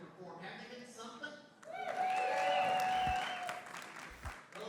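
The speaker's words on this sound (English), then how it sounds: "How about a hand for him?" An audience breaks into warm applause for a performer at a charity benefit show, the clapping swelling and holding, with talk and a sustained musical tone over it.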